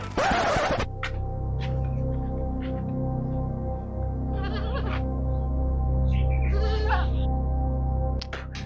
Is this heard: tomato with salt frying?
no